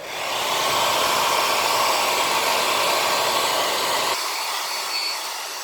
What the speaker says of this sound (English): obviously it's a hairdryer